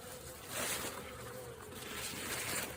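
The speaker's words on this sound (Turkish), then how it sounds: "Havanın soğuk olmasına rağmen arkadaşlar arı uçuşu var" A steady, faint buzzing drone of honeybees flying around hives in cold weather fills the air, continuous and hazy with no voices.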